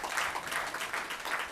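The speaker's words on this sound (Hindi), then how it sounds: "जोरदार ताली से इसका समर्थन कीजिए।" Audience at a meeting giving a short burst of applause, a dense patter of many clapping hands filling the space, fairly even in loudness and without any speech.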